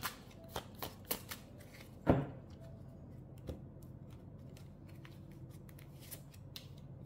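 Tarot cards being shuffled by hand, crisp riffling and snapping bursts, one louder slap near the middle, close and fairly quiet against a faint room hiss, no talking.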